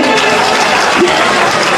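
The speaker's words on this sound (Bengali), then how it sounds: "রিপন ভাইয়ের জন্য একটা করতালি চাই" Applause from a crowd at a BNP founding anniversary gathering, a steady dense wash of clapping that holds evenly throughout without pause.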